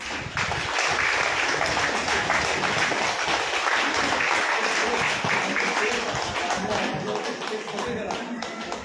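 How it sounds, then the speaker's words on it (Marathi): Audience members at a stress-relief talk clap loudly and steadily, a dense, sustained patter of many hands lasting several seconds before easing off slightly near the end. "तर जागा करण्यासाठी एकदा जोरदार टाळ्या वाजूया"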